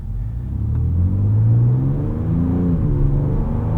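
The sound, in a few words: 2024 Ford Ranger Raptor accelerating off the line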